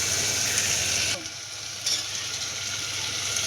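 Knol-khol pieces hit a hot pan and sizzle loudly, a dense frying hiss that drops sharply in the middle as the pan settles, then swells again and keeps crackling steadily close up.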